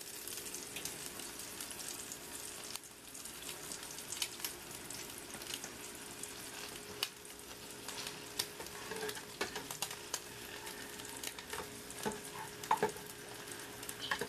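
Eggs frying in leftover bacon grease in a pan, a quiet continuous crackling sizzle with occasional utensil scrapes and faint water sounds, no talking.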